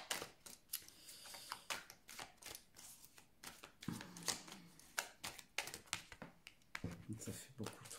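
Tarot cards are shuffled by hand in quick, irregular bursts of crisp riffling and tapping, up close and fairly quiet, with brief pauses between runs.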